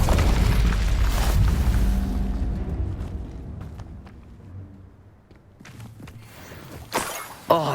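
A fiery Incendio spell blast from Hogwarts Legacy erupts in a loud, dense boom at the start, then fades into crackling residue, with sharper bursts flaring near the end.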